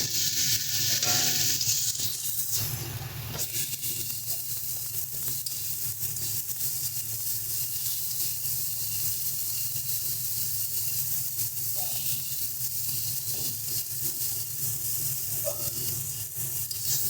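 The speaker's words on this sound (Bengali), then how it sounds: "মশলাটাকে ভালো মতন কষিয়ে নেব" Spice masala with dry red chili powder and salt sizzles and hisses in a pan, a steady close frying sound with a brief louder burst near the start and faint stirring taps, no talking.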